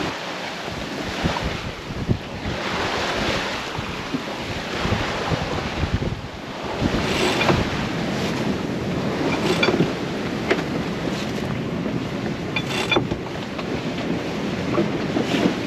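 Wind and sea waves off an island shelter in the Arctic, about 20 knots of wind aboard a sailing boat, heard as a steady loud rush of wind buffeting the microphone with surging wash of water throughout.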